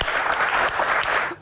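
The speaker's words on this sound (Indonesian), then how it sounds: "Tepuk tangan dong buat Denny." A studio audience at a Q&A talk show bursts into dense, loud applause that holds steady throughout and cuts off at the end.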